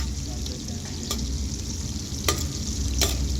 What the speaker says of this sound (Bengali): এখানে আমরা দিয়ে দিলাম হালকা অলিভ অয়েল প্লাস বাটার, এবং এখানে রসুন দিয়ে নেওয়া হয়েছে।